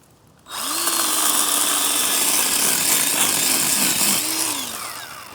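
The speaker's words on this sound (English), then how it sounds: "use my small handsaw for these smaller trees" Small handsaw cutting through small trees during a yard cleanup, a steady loud rasping that runs continuously for several seconds after a brief quiet start, close to the listener with no talking.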